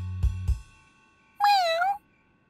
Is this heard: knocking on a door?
no